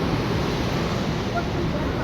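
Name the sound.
fast-flowing Saraswati river water rushing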